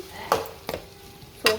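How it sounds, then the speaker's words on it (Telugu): Brinjal coconut curry stirred in a hot pan, three distinct scraping stirs over a faint sizzle, close and clear with no talking. "ఇప్పుడు కొబ్బరి వేసేసుకొని మంచిగా కలిపేసుకుందాం"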